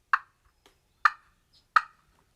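Three sharp, isolated turkey clucks from a slate call, short and crisp with pauses of about a second between them, close and alone.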